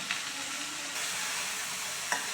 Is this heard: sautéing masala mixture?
yes